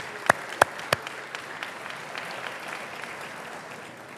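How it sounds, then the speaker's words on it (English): Applause at a Chamber of Commerce annual awards dinner: a few sharp, close claps open it, then a steady, moderate wash of clapping from the room continues throughout. "please give the chamber and Jackie and her staff a big round of applause"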